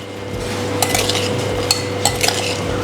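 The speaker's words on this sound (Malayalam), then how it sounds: "നന്നായി ഉപ്പും നാരങ്ങയും കൂടെ നന്നായി മിക്സ് ചെയ്ത് വെക്കാം." A utensil clinks and scrapes against a bowl as cut white lemon pieces are mixed with salt for pickle, a few sharp taps over a steady low background hum.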